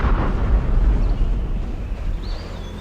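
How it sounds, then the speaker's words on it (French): A massive blast from a ruptured Soviet gas pipeline, heard as a dense, loud low rumble that roars at first and then slowly fades, with no voices over it. "la déflagration qui vient de se produire est l'explosion d'origine non nucléaire la plus puissante de l'histoire"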